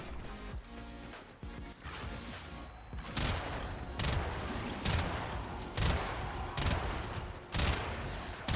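Rapid gunfire and impact bursts from weapons in the video game Warframe, dense continuous shooting with heavy repeated blasts throughout, loud and without talk.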